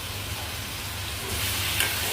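Steady frying sizzle with a hiss that grows louder partway through as eel is added to curry paste in a hot pan and stirred.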